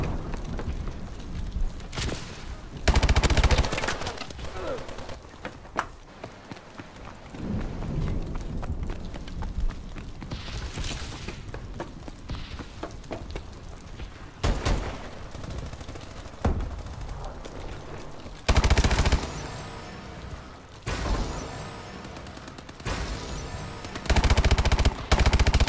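Repeated bursts of automatic gunfire and single shots from the Call of Duty Advanced Warfare multiplayer match, loud and close, with sharp volleys scattered through a busy battlefield mix and no talking.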